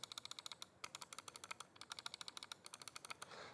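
Scroll wheel of a Pulsar X2 gaming mouse ratchets through a quick series of crisp, evenly spaced clicks, close and quiet, with a brief pause midway before the ticking resumes.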